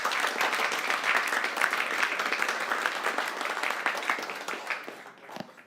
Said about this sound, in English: So please welcome with a round of applause, Mikołaj and Igor.